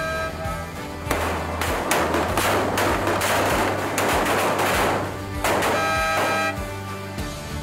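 Rifles fire in a military marksmanship training exercise, a steady stream of sharp overlapping shots over a constant droning hum, loud and close without talk.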